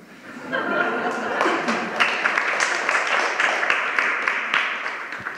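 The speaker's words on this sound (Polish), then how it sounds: "Mam nadzieję, że autora ucieszyły te oklaski w zaświatach" Audience in a theatre applauding: dense, steady clapping from a crowd that builds quickly and holds, with a few louder individual claps and light chuckles mixed in.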